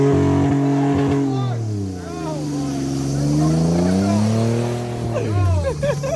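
A turbocharged Toyota car engine revs hard as it climbs a hill with the clutch slipping, its loud drone rising and falling in pitch while people talk over it.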